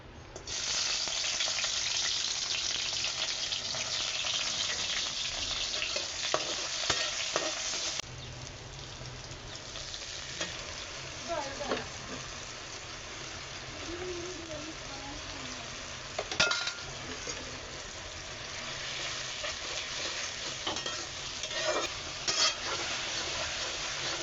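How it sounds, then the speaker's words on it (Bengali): Fish fries in a hot pan with a steady, loud sizzle, broken by occasional scrapes and clinks of a utensil against the pan; the hiss drops slightly partway through and continues without talk. "এই তো আমি মাছটা এখন রান্না করে নিচ্ছি।"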